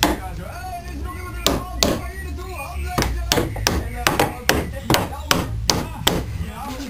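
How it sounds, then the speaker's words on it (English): A copper hammer strikes in an uneven series of about a dozen sharp, close knocks and taps, spaced by short pauses over low background noise. "Here's a copper hammer."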